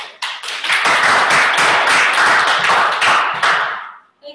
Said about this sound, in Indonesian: Bisa kita berikan aplaus buat Bunda.